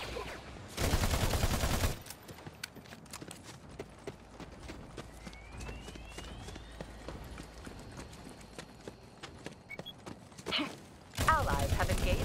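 Automatic and burst gunfire from the Battleborn video game, with loud bursts near the start and end and lighter scattered shots, clicks and effects between, with speech in the game.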